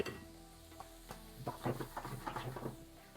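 Leftover brisket taco filling with spices and tomato puree sizzles in a pan, with a steady frying hiss broken by scraping stirs and soft utensil knocks close by.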